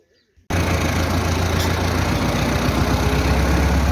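A tractor engine kicks in after a brief quiet moment and then runs steadily, loud and close, with a deep, continuous idling rumble.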